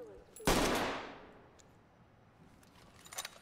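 A single loud gunshot in the tactical shooter game Ready or Not, a sharp close blast with a long decaying echo tail, followed by faint clicks and rattles.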